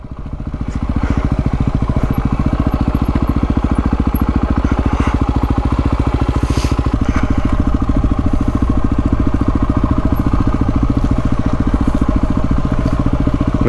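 An adventure motorcycle's single-cylinder engine on a steep mountain track in the Victorian High Country thumps at a steady, even idle-like pulse, close and loud, with light clatter and wind across the whole stretch.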